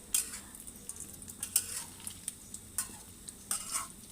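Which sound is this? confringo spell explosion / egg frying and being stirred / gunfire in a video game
egg frying and being stirred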